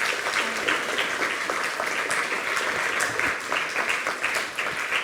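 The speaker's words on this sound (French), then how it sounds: "On peut applaudir, voilà." Sustained applause from an audience at a hospitality and catering excellence event in French Polynesia, steady dense clapping throughout with no break, moderately loud and heard on its own.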